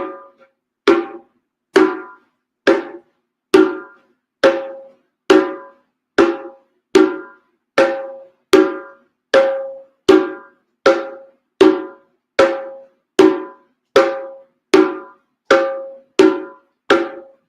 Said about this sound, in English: So I'll play one note, one tone sound, and you'll repeat it